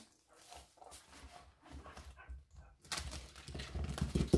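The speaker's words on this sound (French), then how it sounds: "J'ai mon chien et mon fils qui se chamaillent dehors. Je les entends d'ici." A dog barks and whines somewhere outside, muffled and fairly distant, amid scuffling and background noise that grows louder toward the end.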